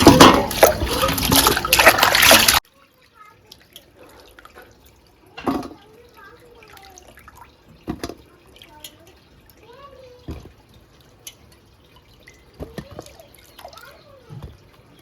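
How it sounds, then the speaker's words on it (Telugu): Bitter gourds being washed under running water, a burst of tap flow at the start followed by scattered drips, splashes and handling noises at close range, with some quiet voices. "వీటిని శుభ్రంగా కడుక్కుందాం"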